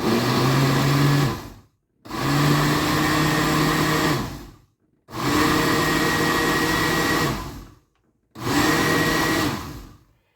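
A kitchen blender pulses a thick peach yogurt smoothie in four loud bursts of whirring motor, each about two seconds long and separated by short silent gaps.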